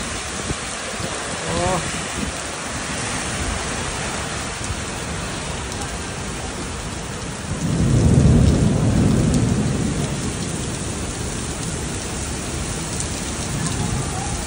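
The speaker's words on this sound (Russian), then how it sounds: "Нормально дождь." Heavy rain pours steadily in Japan, and a deep roll of thunder swells up midway and rumbles for a couple of seconds before easing back under the constant downpour.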